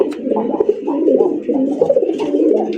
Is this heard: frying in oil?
no